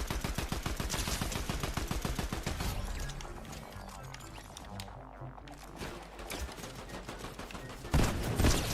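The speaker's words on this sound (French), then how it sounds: "mais il m'a mis une balle de snipe" Sniper and automatic gunfire in a video game, a dense run of loud rapid shots for about three seconds, then a busy mix of further firing and game sounds, with a loud burst near the end.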